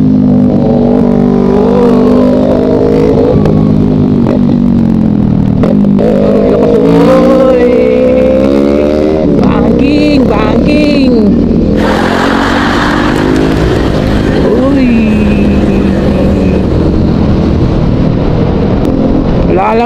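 Suzuki Smash motorcycles rev and pass nearby in a steady stream of rising and falling engine whines, loud and continuous throughout, with people talking over them.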